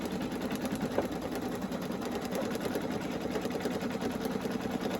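A Brother Innovis VE2200 embroidery machine stitches out a design on a towel, its steady mechanical whir running continuously at a moderate level with a fast, even needle rhythm throughout.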